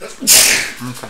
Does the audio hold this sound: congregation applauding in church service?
no